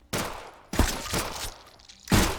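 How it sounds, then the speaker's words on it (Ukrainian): Bursts of rapid drone gunfire in the video game Zompiercer come in three or four volleys, separated by short gaps, with no talking. "стрільба з дрона по противнику взагалі не результативна"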